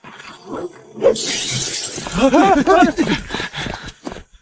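Glass being smashed during an attack on a workshop shed, a sharp bright crash about one second in followed by ongoing breaking noise, with agitated voices shouting over it.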